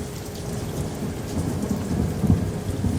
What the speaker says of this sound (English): A relentless rain began to beat